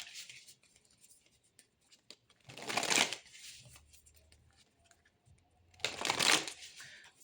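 Oracle cards being shuffled in two quick riffled bursts close by, each a rapid papery flutter lasting under a second, separated by quiet stretches with faint background noise.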